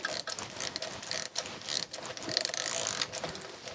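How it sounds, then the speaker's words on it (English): Rapid ratcheting of a Tite-Reach chain drive extension wrench: a fast, steady train of close, quiet metallic clicks with brief pauses between strokes, and no talking. "I could start ratcheting it way down at this end"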